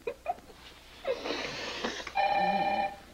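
A telephone rings indoors, a single electronic ringing tone sustained near the end after quieter breathy sounds and brief rustles.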